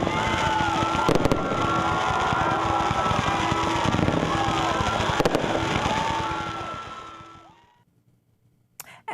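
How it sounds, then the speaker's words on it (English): A fireworks show celebrating graduates, with a dense, continuous barrage of crackling bursts and rumbling booms that fades out toward the end, leaving near silence before a few final pops. "it was an amazing fireworks show"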